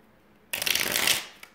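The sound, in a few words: shuffling tarot cards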